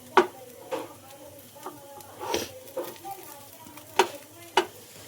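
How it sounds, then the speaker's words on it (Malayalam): Fish frying in a covered pan in a home kitchen, a soft steady sizzle with occasional sharper spits and clatters, close and moderate in level. "ഞാൻ അധികം മീനൊക്കെ പൊരിക്കുമ്പോഴേ അടച്ചിട്ടിട്ടാ പൊരിക്കുക"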